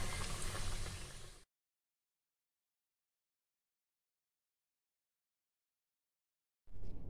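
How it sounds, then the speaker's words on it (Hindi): Gujiya frying in oil over low to medium heat gives a steady, close bubbling sizzle that cuts off abruptly into silence, then returns briefly at the very end. "यहाँ मैं दूसरा भी डाल दूंगी, और ठीक जिस तरह से पहले को फ्राई की हूँ लो टू मीडियम, इसे भी फ्राई करके निकाल लूंगी"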